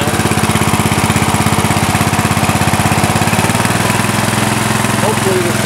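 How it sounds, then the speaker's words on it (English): Murray riding mower with a 16.5 HP Briggs & Stratton engine runs at a steady idle, close and loud, giving a constant rapid pulsing drone that holds unchanged throughout. "that's your typical mower engine sound"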